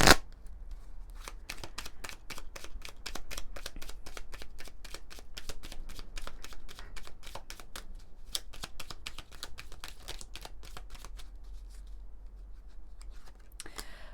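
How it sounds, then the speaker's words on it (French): Oracle cards, a rose-themed deck, shuffled by hand in a steady run of crisp riffling flicks close up, carrying on for the whole stretch with no talking. "on va prendre quelques cartes de l'oracle de la rose de Maman Marie"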